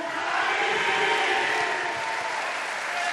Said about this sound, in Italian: E allora con un grande applauso accogliamo il nostro capitano Matteo.